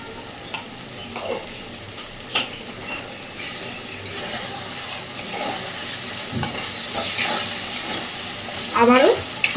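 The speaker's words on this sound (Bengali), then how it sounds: "আবারও মশলাটাকে খুব ভালোভাবে কষাতে থাকবো।" Spice masala with salt, turmeric and a splash of water sautéed in oil in a pan, giving a continuous sizzle and hiss with scraping stirs and occasional sharp spatters, close up.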